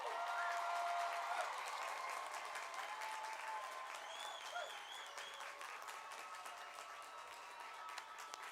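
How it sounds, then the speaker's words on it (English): Graduation ceremony audience applauding the physician assistant class of 2021, a broad continuous patter of clapping that holds fairly even throughout, with faint whistles and cheers riding over it at a moderate distance. "give them a round of applause"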